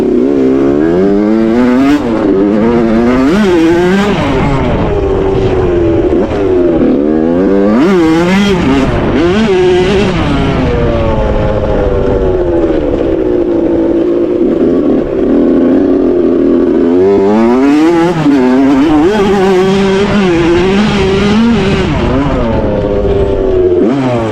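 A 2001 Suzuki RM 80 dirt bike fitted with a 2003 RM 85 cylinder being ridden, its engine loud and close throughout, revving up and down in repeated surges.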